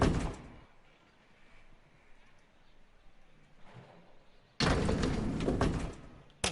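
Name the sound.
elevator door in L.A. Noire video game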